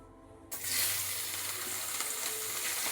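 Chopped onion dropped into hot oil and butter in a home kitchen pan, a sudden loud sizzle bursting from quiet and continuing as a steady, close, hissing fry.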